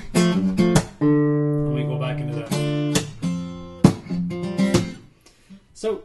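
An acoustic guitar playing a passage from a song, with ringing chords and single plucked notes in short phrases separated by brief pauses, close and clear.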